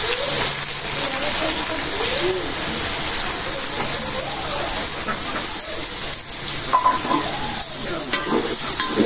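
Onions frying in hot oil with a steady, close, dense sizzle, broken by scraping stirs and a few brighter crackles near the end; faint chirping sits underneath.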